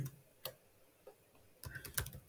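Search keywords are typed on a computer keyboard: sparse, faint key clicks, then a quicker cluster of taps at the end, with no talk.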